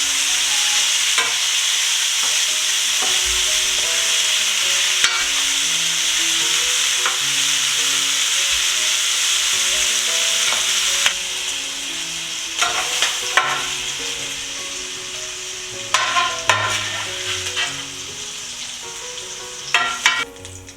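Beef for a stir fry sizzles in hot oil in a pan, a steady loud hiss with crackling pops that drops slightly halfway, then bursts of sharper spatter toward the end; no talking.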